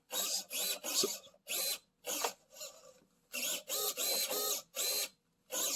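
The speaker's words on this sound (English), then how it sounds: "we're just going to do a quick servo test here" A small 20g servo motor driven by a servo tester whirs in short, sharp bursts, about a dozen buzzing sweeps separated by brief silences, close and fairly quiet.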